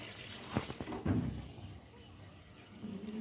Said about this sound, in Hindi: देखिए इसमें पानी अब बराबर आना शुरू हो गया है